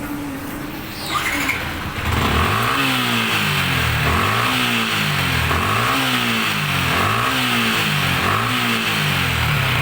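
A Yamaha Sniper 155 motorcycle engine is revved repeatedly up to around 7,000 RPM, climbing and falling in a steady cycle of loud, close whining pulls after a short idle at the start.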